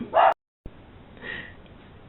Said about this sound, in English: the puppies are barking